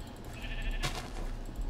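A sheep in the Minecraft Feed the Beast modpack bleats once, a short nasal call heard over steady game background sound.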